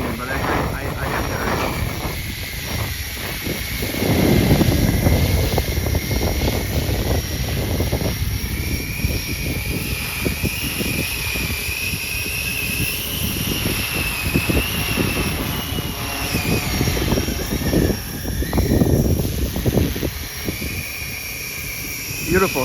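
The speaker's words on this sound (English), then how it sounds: "Beautiful helicopter." A radio-controlled EC 135 500-class model helicopter flies outdoors in strong wind, its steady rotor and motor whine continuous and fairly loud, with gusty wind noise throughout.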